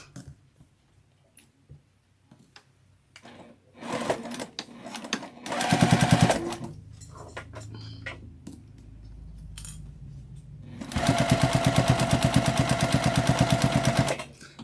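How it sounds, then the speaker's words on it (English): A sewing machine runs along the open edge of a tote bag in two loud, steady bursts of rapid stitching, separated by quieter handling clicks and fabric rustling. "Now I'm just going to sew at 1/8 of an inch all the way down the open edge."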